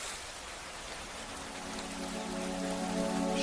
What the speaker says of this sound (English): Evelyn stood beneath the office porch watching rain drip softly from the roof.